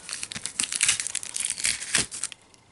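Tape is peeled and crinkled off the plastic packaging of a Pokémon card tripack, making close, dense crackling and rustling for under three seconds.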